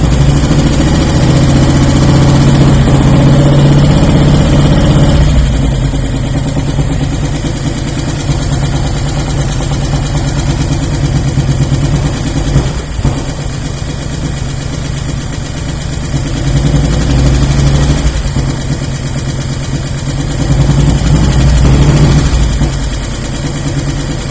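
A carbureted 2002 Harley-Davidson Electra Glide Standard motorcycle engine idles loudly and close by, a steady low rumble that runs unbroken for the whole stretch, with slight swells in intensity.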